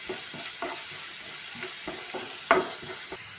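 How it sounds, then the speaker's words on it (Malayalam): Garlic, ginger and green chili sizzle in a pan for a chicken gizzard roast while a spoon scrapes and stirs them in a steady, irregular rhythm, with a few sharper clacks against the pan. "വെളുത്തുള്ളിയുടെയും ഇഞ്ചിയുടെയും പച്ചമുളകിൻ്റെയും എല്ലാം പച്ചമണം മാറുന്നത് വരെ നമുക്കിത് ഇളക്കി കൊടുക്കാം"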